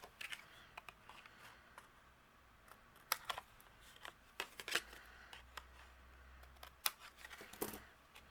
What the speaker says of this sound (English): we're going to use our scissors and trim off the excess